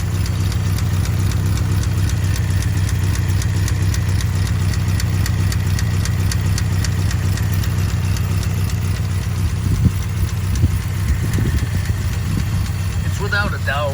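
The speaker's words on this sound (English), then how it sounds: "one of the finest original flathead V8s I've ever heard" A 1936 Ford Deluxe Roadster's original flathead V8 idles smoothly close up, a steady low rumble with a light rapid tick running through it, and a voice speaks briefly near the end.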